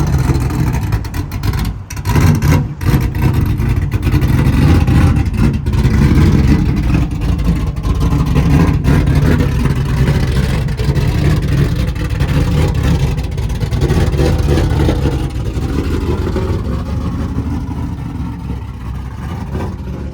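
A 1998 Camaro with an LS1 V8 revs hard on a dyno, a loud, sustained engine roar rising and holding for many seconds, with rough crackles early on and a slight easing toward the end.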